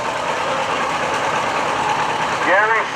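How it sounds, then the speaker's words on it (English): A 1949 John Deere Model A tractor engine runs at a steady idle-like drone in a construction expo parade, loud and continuous, with a brief whistling sound near the end. "49, this is a 49 Model A John Deere."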